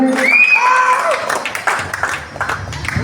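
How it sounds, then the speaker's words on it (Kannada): A crowd at a cricket tournament prize ceremony claps and cheers, with scattered clapping, a few whistles and shouts, and chatter mixed in. The noise is loud at first and then fades to lighter applause. "ನಾವೆಲ್ಲರೂ ಕೂಡ ಜೋರಾಗಿ ಚಪ್ಪಾಳೆ ತಟ್ಟಬೇಕಂತ ಹೇಳಿ ತಮ್ಮಲ್ಲಿ ವಿನಂತಿ ಮಾಡ್ಕೊಳ್ತೇವೆ"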